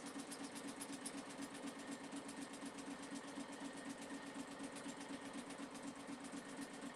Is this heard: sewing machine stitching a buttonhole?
yes